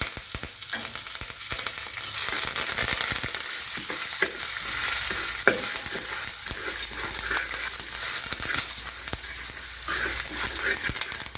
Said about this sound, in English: Next I am adding this ginger. Now next we will add this curry leaves.